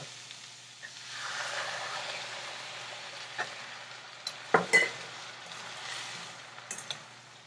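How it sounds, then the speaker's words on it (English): Milk poured into a pan of bottle gourd curry brings a soft rising hiss and simmering bubble, followed by a few sharp clinks of a utensil against the pan. "now I'm adding the milk"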